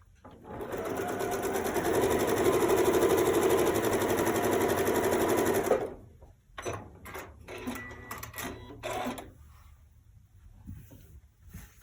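A sewing machine piecing quilt rows together runs in a loud, steady whirring stitch for about five seconds, then stops, followed by quieter clicks and handling of the fabric and machine.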